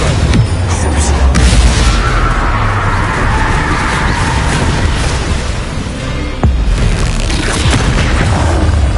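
Bombarda explosion spell cast in the Hogwarts Legacy video game, a loud, dense rumbling boom with sharp bursts and crackling debris, continuous and close, with voices mixed in.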